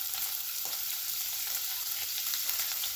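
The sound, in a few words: frying in pan for matar paneer, until golden brown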